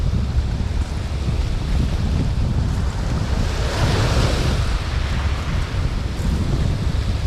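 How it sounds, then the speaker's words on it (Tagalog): Big sea waves surging loudly and steadily onto a shore, with heavy wind buffeting the microphone throughout and no voices. "malaki ang alon"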